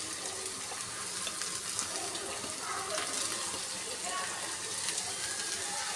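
Two medium-sized onions frying in a pan, a steady bright sizzle and crackle running throughout, close and even in loudness, with a voice talking over it.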